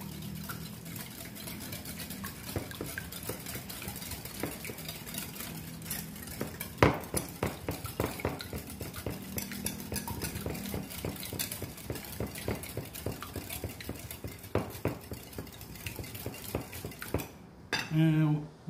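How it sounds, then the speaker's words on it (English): Wet muffin batter is whisked in a bowl, with fast, continuous clinking and scraping strokes against the sides, close and fairly loud, that break off near the end. "And we're gonna whisk it."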